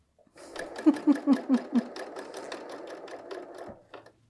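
A Bernina L 890 sewing machine stitches a woven top's shoulder seam, a quick, even run of needle thumps that speeds up, then slows and stops, heard close with no talking over it.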